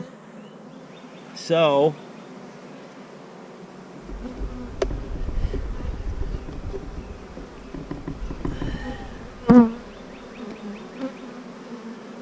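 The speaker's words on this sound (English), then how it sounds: "these bees are ornery. They don't have a queen in here yet." Honeybees in a queenless hive buzzing in close, intermittent bursts, with a couple of louder buzzes passing near, over faint background noise and a brief spoken word.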